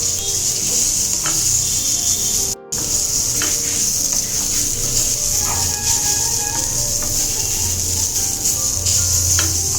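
Spice paste is roasted in a pan with a steady, close sizzle and the scrape of stirring throughout, broken by one brief silent gap.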